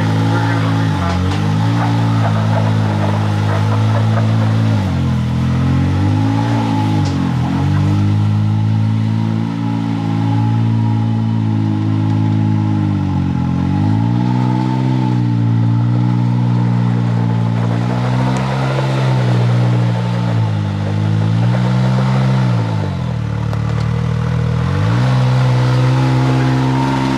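Can-Am Maverick EVO side-by-side with a tune on a 0-60 acceleration run: a loud, close engine roar climbing through repeated rising revs with sharp dips at each shift, sustained throughout.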